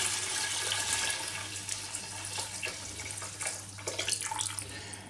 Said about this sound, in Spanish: Pondré el litro del caldo de pollo.